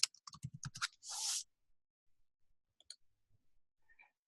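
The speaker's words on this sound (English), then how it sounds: "this time I won't stop typing early" Fast bursts of key clicks on a computer keyboard, then a brief soft swish, followed by sparse, faint single taps in a quiet room.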